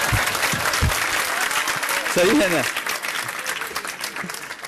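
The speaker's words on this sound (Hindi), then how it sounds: "एक बार तालियां तो बजाओ तुम लोग" An audience claps together in steady applause while someone speaks loudly over it, the clapping continuing under his voice.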